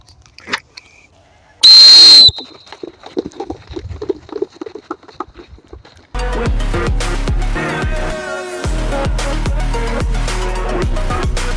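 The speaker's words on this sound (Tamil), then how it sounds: "விசில் சத்தம் எப்போ கேட்குமோன்னு ரெடியாக" A referee's start whistle at a police physical test gives one loud, shrill blast lasting about half a second, between scattered outdoor noises and a burst of loud music.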